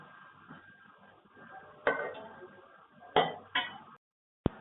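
A spoon stirs idli upma in a metal pan on the stove, making soft scraping and a few sharp metallic clanks. Quiet background noise runs underneath until a brief silence and a final clink.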